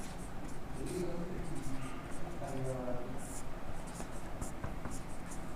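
Chalk or marker scratching across a board during a classroom lecture, a steady run of soft scratchy strokes under a man's continuous speech.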